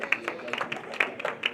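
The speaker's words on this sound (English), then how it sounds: "Okay, we can clap for him as he leaves." An audience claps for a departing speaker at a climate and sustainable blue foods session, a brief patter of hand claps with a voice talking over it.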